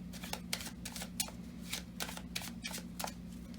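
Cards riffle and flutter in quick rustling bursts, a deck being shuffled close up at low volume.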